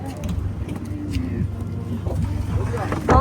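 A boat engine drones low and steady on a crossing to Nainativu island, with water rushing alongside and people talking over the motor throughout.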